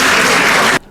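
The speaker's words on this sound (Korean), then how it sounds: "이현주 의원님께 박수를 한번 부탁드리겠습니다." A political event audience claps for lawmaker Lee in a dense, loud burst of applause that stops abruptly after under a second.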